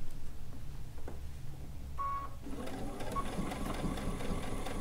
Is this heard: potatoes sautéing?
no